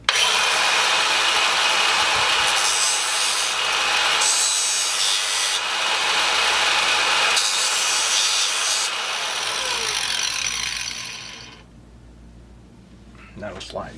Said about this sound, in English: The best way to do that is with the grinder